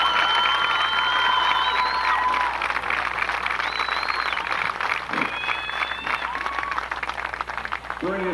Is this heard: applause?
yes